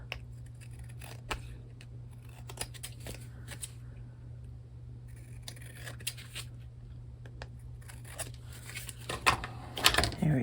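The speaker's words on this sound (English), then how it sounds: "do I want to cut that? I think I do. Cut that off." Scissors snipping through paper or card at a crafting table, a scattering of quiet, sharp cuts spread across the span with a louder rustle and clatter near the end.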